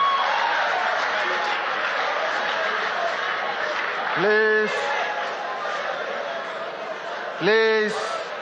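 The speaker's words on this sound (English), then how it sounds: "You are not allowed to cheer in the audience." Debate audience in a hall cheering and applauding in a steady, dense wash of clapping and crowd noise, with a voice calling out over it twice.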